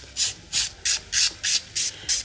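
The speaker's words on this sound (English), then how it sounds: "Going to set up a buffer as well. I'm just going to buff over." Quick rhythmic buffing strokes with a nail buffer on a natural fingernail after acrylic overlay removal, seven short scratchy rubs in steady succession, close up and with no talking.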